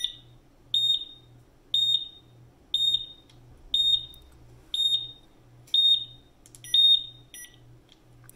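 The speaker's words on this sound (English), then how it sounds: "it's trying to acknowledge the alarm still" A GMI PS500 portable gas detector sounds its alarm, close and loud, in a regular pattern of shrill high-pitched beeps about once a second, each paired with a low buzzing pulse, with no voices.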